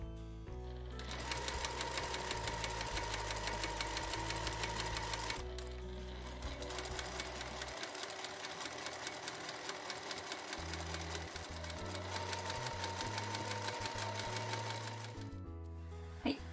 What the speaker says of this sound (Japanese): 中央の仕切りはこう下から縫っていって こう一目横にずれたら下に下がるというような縫い方で進めていきます